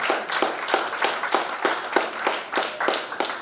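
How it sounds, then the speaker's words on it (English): An audience at a graduation summit keynote in Nigeria claps in a steady, rhythmic beat, with regular pulses of many hands striking together at a brisk, even pace. "You deserve another round of applause"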